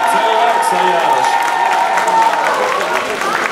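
Crowd in a rock pub cheering and clapping at a live band show, a dense, loud wash of applause and shouts with a steady tone ringing through.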